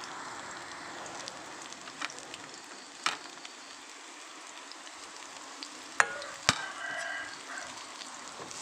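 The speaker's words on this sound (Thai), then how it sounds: "น้ำมันฮอนแล้วเฮาก็ใส่เครื่องลงไป" Pounded garlic and chili paste fries in hot oil in a pan, a soft continuous sizzle with a few sharp clinks and stirring knocks scattered through it, no voices.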